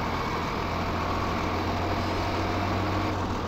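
A truck engine idles in Farming Simulator 2015, giving a steady low rumble with an even mechanical drone that runs on unchanged and alone.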